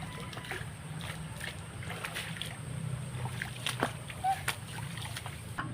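An overflowing stream beside a vegetable garden splashes and sloshes continuously nearby, with occasional sharper splatters.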